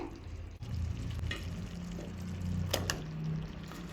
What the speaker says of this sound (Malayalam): എല്ലാം ഇതിലിട്ടിട്ട് മസാലയിലിട്ടിട്ട് ഒന്ന് നന്നായിട്ടൊന്ന് വഴറ്റിയെടുക്കണം